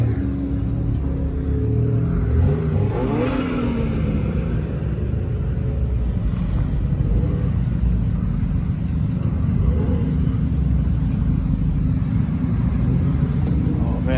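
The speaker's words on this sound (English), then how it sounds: "Wow, that Audi sounds all right." An Audi car engine rumbles and revs at a street car meet in Hartford, Connecticut, with a deep, steady roar that swells briefly early on. Other traffic and voices can be heard in the background.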